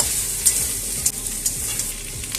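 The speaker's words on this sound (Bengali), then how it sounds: "দিয়ে এটাকে ভালো করে নেড়ে চেড়ে নেব।" Cut potatoes stirred into a sizzling pan of prawn and elephant-foot-yam curry, a close steady frying hiss broken by sharp spatula scrapes and clinks roughly every half second.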